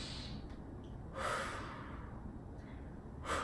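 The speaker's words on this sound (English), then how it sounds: "And breathe in and out." Slow breaths in and out during a beginner home workout, lying on the back, quiet and close, with two fuller exhalations standing out against a faint hiss.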